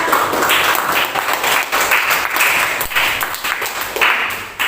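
Applause from a classroom of students for a presenting group, a dense continuous patter of many hands clapping close by, steady for several seconds with slight swells and dips and no talk over it.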